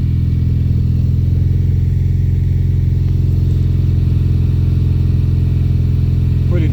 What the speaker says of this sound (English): that's the Solo Performance exhaust